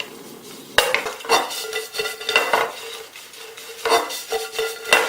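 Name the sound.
sautéing bread croutons in butter in a pan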